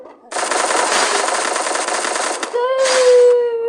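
Rapid automatic gunfire in a shooting video game, a long sustained burst, then a brief break and a second burst with a rising electronic tone, loud and close with no talking.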